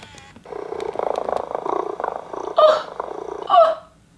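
A steady, pulsing purr from a Little Live Pets My Dream Kitten toy, broken twice by brief electronic meows.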